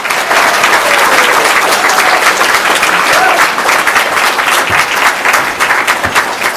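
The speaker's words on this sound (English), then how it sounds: "Let's hear a big round of applause for Minuteman, Tim Donnelly." A crowd at a California political rally bursts into loud, sustained applause, the clapping dense and steady before thinning slightly toward the end.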